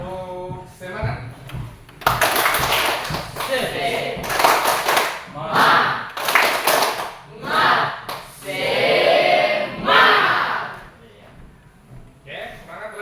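A school class performs a rhythmic spirit clap led by their teacher, bursts of patterned clapping mixed with children's shouted chanting, loud and close with short pauses between phrases.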